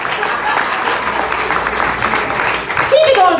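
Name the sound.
audience applause for comedian Hailee Lenhart-Wees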